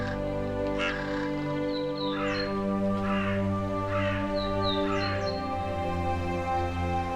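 Young vultures in Sardinia call in a series of short, raspy, sparrow-like chirps, some five bursts over a steady humming drone.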